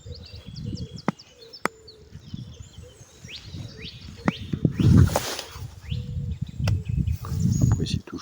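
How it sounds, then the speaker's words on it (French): Morning birdsong outdoors with scattered sharp chirps and whistles at a distance, mixed with rustling and handling noise and an occasional voice underneath. "Écoutez les chants des oiseaux, frères et sœurs."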